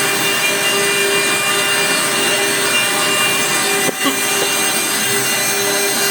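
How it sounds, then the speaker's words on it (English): CNC grinding head carving a fluorite crystal in a Donghai workshop, a loud continuous abrasive whir with a high tonal whine and a brief dip near the end. "this grinding head is going up and down"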